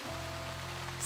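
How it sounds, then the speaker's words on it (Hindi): Heavy rain pours down on a street in a steady, dense hiss with a faint low hum beneath. "आसमान से मूसलाधार बारिश गिर रही है।"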